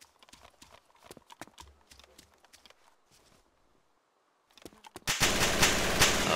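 An MG42 machine gun fires in a World War II town-clearing video game. Scattered sharp cracks and thuds lead into a sudden, loud, sustained roaring burst of rapid fire at the end.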